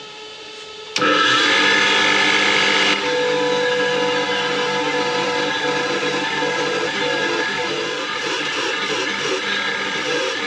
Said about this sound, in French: On va le brosser un peu.